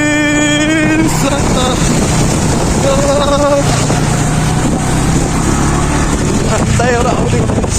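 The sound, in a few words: boat crossing the sea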